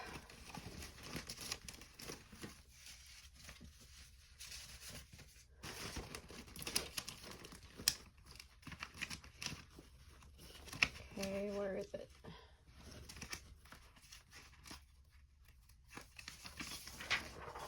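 Scrap paper handled and crinkled during craft work on art dolls, giving irregular rustling and crumpling bursts at close range in a quiet room, with brief pauses between handling sounds.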